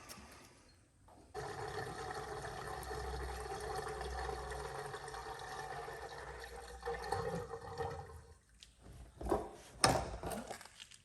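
Gasoline pours into the fuel tank of a Yugo GV, a steady gurgling liquid rush lasting several seconds, close and moderate, ending with a few sloshes and knocks.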